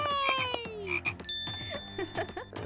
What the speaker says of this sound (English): Look at that funny blue frog.